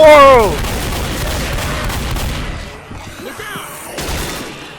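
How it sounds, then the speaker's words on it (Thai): Rapid gunfire in the video game Left 4 Dead, a short loud burst at the start that fades into quieter scattered game noise with no speech. "มันยิงรัวๆ ได้เลย"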